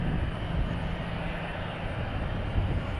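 Qantas 22 airliner departing DFW airport on a flight to Melbourne, a steady broadband engine roar holding at moderate loudness throughout with no voices.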